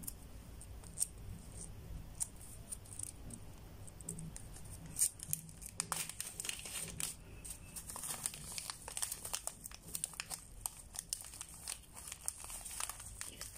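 A plastic bag crinkles and rustles up close as a needle magnet is pulled out of it, with irregular crackles and soft scratchy handling sounds throughout.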